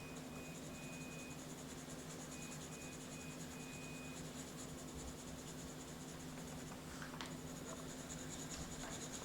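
A pencil colouring on paper makes a faint, steady scratching that continues throughout under a constant background hum.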